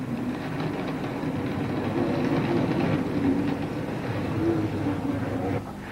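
A train pulls away along the Bluebell Railway branch line towards Lewes, with a continuous close rumble and faint rhythmic clatter throughout that eases slightly at the end.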